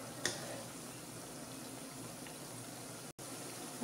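Shakar pare, sweet flour dough pieces, frying in hot oil on medium heat, giving a steady, even sizzle with a faint bubbling hiss that holds throughout, with no talking.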